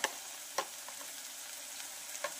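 Garam masala, onion-garlic masala and red chilli powder frying in a pan for chana masala, a faint, even sizzle with a few soft spatula taps spaced through it.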